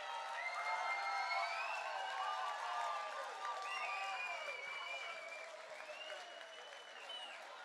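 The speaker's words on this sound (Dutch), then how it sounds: "Geef ze een heel groot applaus," Sustained applause from a crowd after the audience-prize winner is announced at a school band battle final in Breda, steady and dense with whistles and a few cheers mixed in, fading slightly toward the end.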